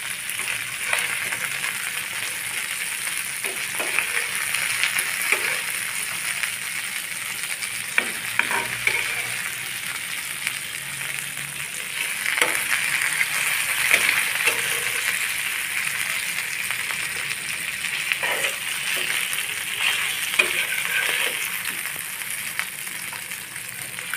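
Golden-browned mirka fish pieces being lifted out of hot frying oil in a pan, a steady close sizzle with scattered light scrapes and clinks, no voices.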